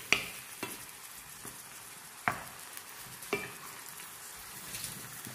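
Fresh tomato sauce is stirred in a pan: a few distinct scraping strokes and taps of a utensil against the pan stand out over a faint, quiet sizzle, with no talking.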